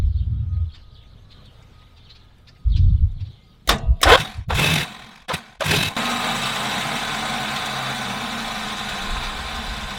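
A Dodge Charger's starter motor cranks in a few short, uneven bursts amid quiet surroundings with faint birds, then gives way to a steady, rough mechanical hum.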